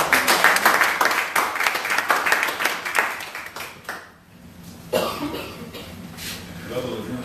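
Dense applause from an audience, many hands clapping fast, fading briefly to a lull before scattered claps return.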